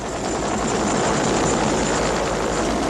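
A rescue helicopter flies over floodwaters, its rotor a loud, continuous, close-sounding roar with steady chopping, heard alone without voices.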